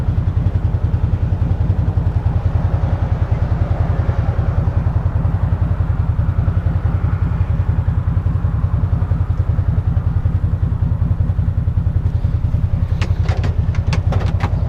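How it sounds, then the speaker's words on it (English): A Massimo MSU 850 side-by-side engine revs hard at full throttle in low range, a loud, close, rapid pulsing drone that holds steady throughout, with a few sharp clicks near the end and no talk. "So in low range, just a full throttle launch."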